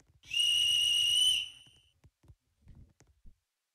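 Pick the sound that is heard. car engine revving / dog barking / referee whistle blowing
referee whistle blowing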